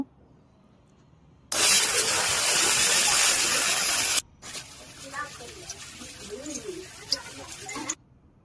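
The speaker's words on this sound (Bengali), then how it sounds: "পটল, সিম, কুমড়ো, কাঁচকলা, ঢেঁড়স, আলু, করলা এক এক করে সব ভেজে নেব" Sliced vegetables such as pointed gourd, flat beans, pumpkin, green banana, okra, potato and bitter gourd sizzle loudly in hot oil in a home kitchen, a steady bright hiss for a few seconds, then a softer crackle beneath faint voices.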